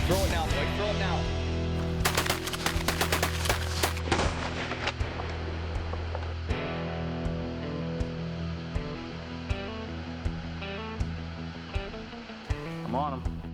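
Hunting gunshots ring out in the open West, a cluster of sharp, loud reports with echoing tails, mixed with voices talking nearby.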